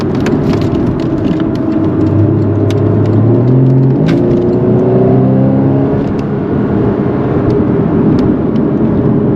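A 2015 Porsche Boxster S accelerates hard, its engine note climbing steadily in pitch through the rev range under a loud, constant road and wind rumble, heard from inside the car.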